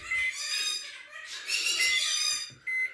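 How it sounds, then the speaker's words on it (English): Pet birds at home make loud, shrill calls in repeated bursts, harsh and squawking, with brief pauses between calls and no talking. "you can hear my birds are going off in the background"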